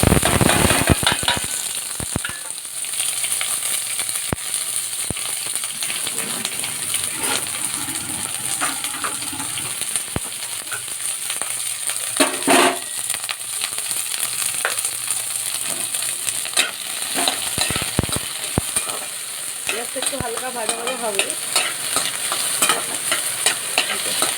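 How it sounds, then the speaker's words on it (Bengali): Hot oil hisses and crackles steadily as onion fries, with occasional pops and scraping stirs in the pan, and no talking. "তেল আমার গরম হয়ে গেছে দেখতে পাচ্ছি এবার আমি পেঁয়াজটা দিয়ে দেবো"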